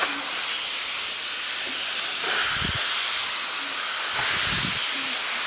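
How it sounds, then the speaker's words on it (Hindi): A kitchen pressure cooker whistles and blows off steam, giving a loud, continuous hiss that swells and eases. Low rumbling bursts come through underneath, and no one speaks. "बहुत ज्यादा आवाज कर रहा है ये प्रेशर कुकर, आप देख सकते हो विस्लिंग साउंड"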